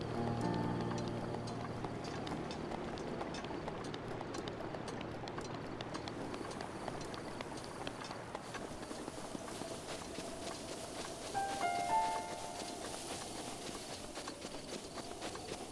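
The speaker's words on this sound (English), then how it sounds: "So here's some horses." Horses galloping in The Legend of Zelda: Breath of the Wild, a quick continuous clip-clop of hooves that starts close and fades slightly, with soft rain-like background noise and no voices.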